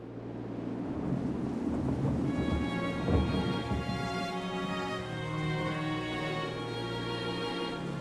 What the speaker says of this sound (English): Heavy rains pound the stricken country.